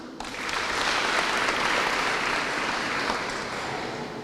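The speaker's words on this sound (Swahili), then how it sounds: "Wapigie makofi." Audience applause at a breakfast meeting honouring Kenyan under-17 soccer players, a dense, even wash of clapping that swells and then gradually eases.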